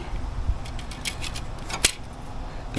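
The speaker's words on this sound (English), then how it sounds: "So I got my aviation snips." Aviation snips cut sheet metal repair panel for a rusted 2016 Ford Fiesta, giving a few quick metallic snips and clicks, close and fairly faint.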